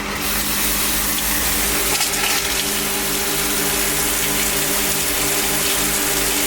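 Water gushes steadily from a newly plumbed boat faucet while air clears from the line, a loud, continuous rush with a faint pump hum underneath and no talk.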